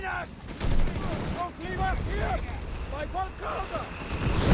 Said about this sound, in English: mortar firing down Death here